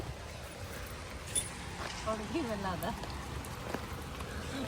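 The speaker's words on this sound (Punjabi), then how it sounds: "ਮੀਂਹ ਪੈ ਰਿਹਾ" Steady rain falls outdoors during a visit to a Guru Nanak Sikh gurdwara. The soft, continuous hiss of drops is faint, with muffled voices and a few light knocks in the background.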